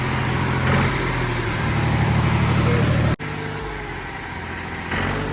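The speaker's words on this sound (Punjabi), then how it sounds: "ਟਰੈਕਟਰ ਆਵਾਜ਼ ਸੁਣੋ ਬਾਈ ਟਰੈਕਟਰ" A Farmtrac tractor engine runs steadily nearby with a low, rough idle, briefly dipping then resuming.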